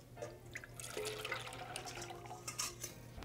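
Egg, milk and yellow mustard batter poured from a bowl into a small pan, giving a soft, close liquid trickle and drip with light clinks of dishware over a steady low hum.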